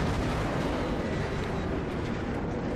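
Battleship Kongo firing its main guns in World of Warships, a dense, sustained rumbling roar of heavy gunfire and booming blasts filling the whole moment, loud and continuous with no talk over it.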